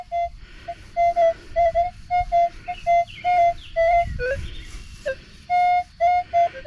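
Metal detector signal tone while treasure hunting at an old state park, sounding as a series of short, repeated beeping pings in an irregular rhythm, with faint handling noise beneath.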